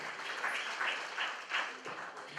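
Audience applause at an Azerbaijan presentation night held in South Korea, a steady mid-distance patter of many hands clapping throughout, moderately quiet with slight swells.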